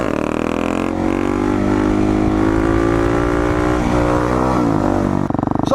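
A supermoto motorcycle engine revs hard and steadily during a wheelie, a loud, close, sustained drone that climbs slightly in pitch, then drops with a quick blip near the end.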